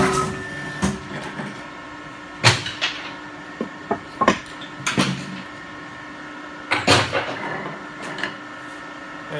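A CP90-40T-B stone recycling machine presses a stone remnant in a mold with a steady mechanical hum, broken by sharp knocks and clacks that come in short clusters. The whole sound stays fairly quiet.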